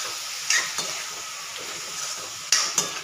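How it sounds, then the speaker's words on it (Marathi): Vegetables sautéing with masala in oil for Andhra-style veg pulao, a steady close sizzle under a few spoon scrapes and clinks against the pan. "मसाला एकदम व्यवस्थित ॲड करून घ्यायचा आणि परतून घ्यायचा एक 3 ते 4 मिनिट त्या भाज्यांमध्ये"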